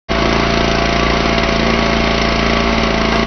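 A powered ice auger drills into frozen lake ice during an ice fishing derby on Schoodic Lake, with a loud, steady engine roar and drilling rumble that holds unbroken for a few seconds.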